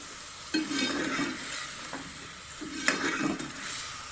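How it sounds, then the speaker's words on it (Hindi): Chicken bhuna masala frying in a pan, stirred in a thick spiced base of onion and ginger-garlic paste, giving a continuous close sizzle broken by a few scraping stirs and spoon knocks. "और अब इसकी करेंगे अच्छी तरीके से भुनाई।"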